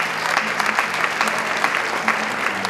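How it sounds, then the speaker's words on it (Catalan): Lively applause with a few sharp individual claps standing out from a festival crowd at a Catalan Festa Major gathering, with a faint steady tone running beneath. "això es mereix un aplaudiment"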